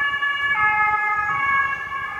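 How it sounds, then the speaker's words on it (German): An ambulance siren wails loud and steady outside a home on the route to a hospital. The tone shifts pitch partway through as the vehicle passes, and no one speaks. "Und jetzt kommt mal wieder ein Krankenwagen."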